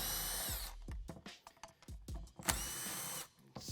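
A power tool with a 10mm socket spins nuts off the PCM on a Ford Bronco, several short whirring bursts and ratcheting pulses close up, with no talking.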